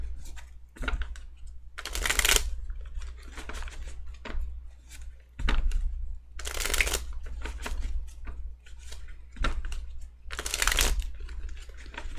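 Tarot cards being shuffled in three loud riffling bursts, with softer shuffling and handling sounds between them, close up and without talk.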